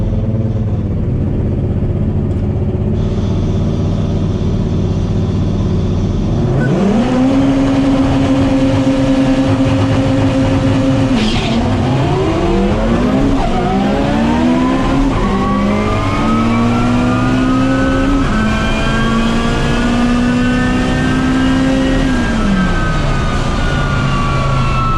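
Stock-internal Honda K24 car on a full-throttle drag strip pass, the engine rising through repeated revving climbs with gear shifts between them, loud and close with no talking over it.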